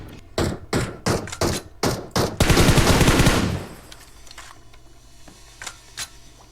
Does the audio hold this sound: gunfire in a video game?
yes